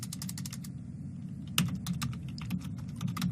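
Steady clicking of computer-keyboard keys as Arduino code is typed, a fast run of close keystrokes with a slightly louder burst partway through, no voices.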